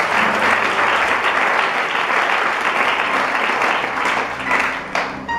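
A church congregation breaks into sustained loud applause and acclaim during a French-language worship service, the clapping steady and dense for several seconds before tapering slightly at the end.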